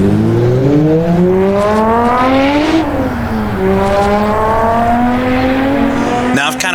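The 500-horsepower V12 of a Jaguar XJ13 wails loudly in Assetto Corsa, climbing steadily through the revs, dipping at a gear change and pulling hard again, with someone narrating over it.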